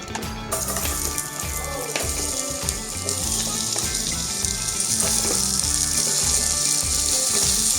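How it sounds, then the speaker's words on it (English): Vegetables sizzling loudly in butter in a hot pan, a dense continuous crackle and hiss with stirring scrapes, growing slightly brighter toward the end; no one speaks. "in goes veggies. Make sure the butter doesn't burn."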